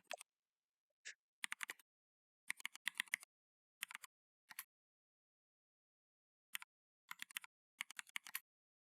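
Numbers being typed on a computer keyboard, quiet close key clicks in short separate bursts of two to four presses with silent gaps between them.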